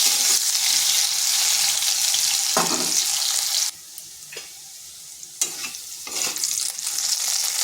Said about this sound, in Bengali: আলুটাকে একটু ভাজা ভাজা করে নেব।